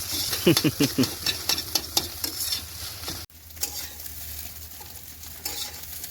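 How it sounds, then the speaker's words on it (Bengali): Potatoes frying in oil in a village kitchen, a soft crackling sizzle after a run of sharp stirring scrapes and clatters, continuing quietly without talk. "একদিকে আলু ভাজা হচ্ছে"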